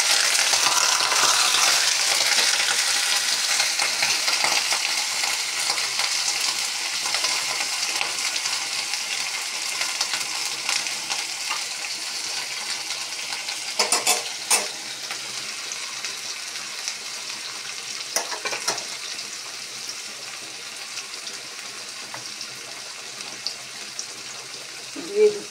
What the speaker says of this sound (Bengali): এখন দিয়ে দিচ্ছি মাছগুলি।